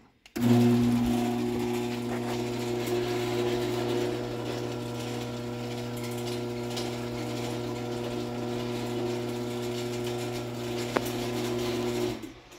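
A LiftMaster 1265LM garage door opener runs steadily for about twelve seconds, a loud constant motor hum with a chain-drive whir, ending with a brief clunk as it stops.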